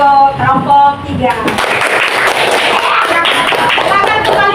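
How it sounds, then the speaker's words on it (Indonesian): Classroom applause for a student group after their presentation, a burst of many hands clapping that starts after a second and carries on steadily, with speech harmonics from talking voices heard over the start. "tepuk tangan untuk kelompok 3"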